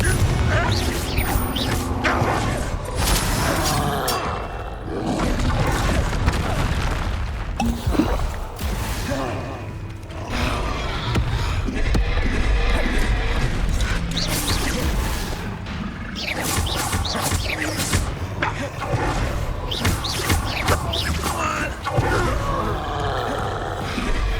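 Confringo fire-blast spells exploding in the video game Hogwarts Legacy, with repeated crashing bursts and whooshes spread through a dense, loud combat mix, alongside roaring creature-like sounds and no clear talk.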